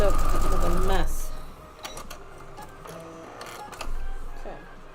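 Sewing machine runs in a steady burst while two fabric pieces of a Thanksgiving gnome table runner are stitched together, then stops; soft handling noises and light talk follow.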